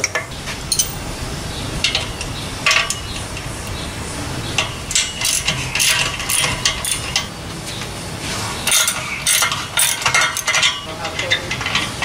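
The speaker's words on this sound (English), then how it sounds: "Now all I got to do is just drill a hole." Hand drill boring a hole in the body of a 1979 AMC AMX during a carburetor install, a dense continuous scraping and grinding with uneven metallic scratches and clicks throughout, fairly loud and close with no talking.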